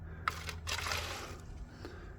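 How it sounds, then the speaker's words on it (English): Gasoline poured into a styrofoam cup, heard as a brief, faint liquid trickle and dribble that swells for about half a second and then thins out in a quiet room. "Next, we're gonna pour straight gas into the cup"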